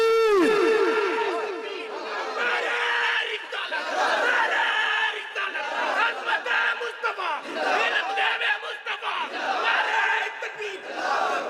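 A large gathering at a religious sermon roars back in unison after the Nara-e-Takbir call, many voices chanting loudly and overlapping in waves that swell and fall for several seconds, close and crowded throughout.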